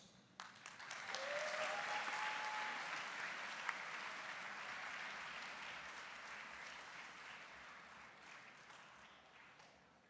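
Audience applause welcoming a speaker to the stage at a North Carolina TSA State Conference, a full room of steady clapping that rises quickly, holds strong for several seconds and gradually tapers off.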